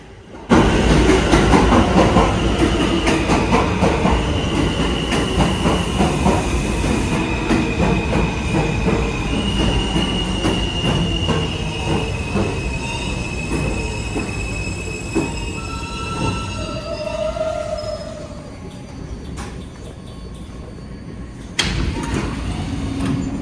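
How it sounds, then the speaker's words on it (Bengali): A New York subway F train pulls into the underground Roosevelt Island station: a loud rumbling roar with squealing wheels and brake tones that slowly fade as it stops, then a door thump near the end. "আমার সেই এফ ট্রেনটা চলে এসেছে"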